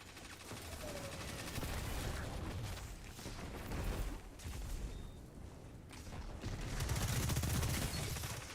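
Rapid bursts of gunfire in the shooter game Destiny 2, dense crackling volleys with booming impacts throughout, dipping briefly in the middle before picking up again, no talking.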